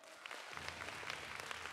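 An audience at a university team competition breaks into brisk, close applause that swells in within the first half second and stays dense and steady to the end.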